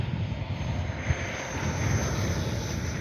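A FlyFans L-39 RC jet model running on 4S power takes off with flaps set, a continuous airy rushing whine heard steadily from moderate distance with no talking.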